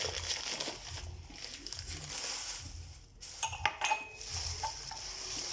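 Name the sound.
drinking glasses clinking as they are handled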